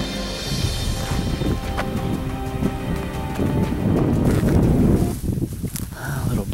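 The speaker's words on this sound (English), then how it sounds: "A little breezy out." Breezy outdoor wind buffeting the microphone in steady rushing gusts, swelling louder toward the end, with a voice speaking faintly alongside.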